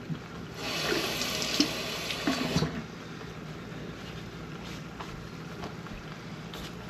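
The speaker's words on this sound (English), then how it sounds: "Wash my knife." Running tap water splashes over a kitchen knife for about two seconds, loud and close, then stops, leaving quiet room noise with faint clicks.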